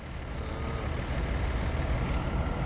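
A tow truck at a property-management parking lot hauling away a parked car, its engine rumbling steadily and loudly at close range with a low, continuous drone.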